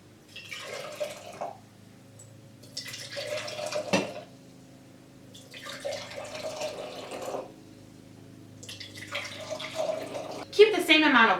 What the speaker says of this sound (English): Pour some warm water into each of your jars.